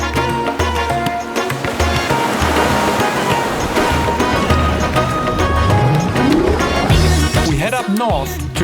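Ocean surf washes onto a beach in Goa, India, a steady loud rush of breaking waves layered under tonal music.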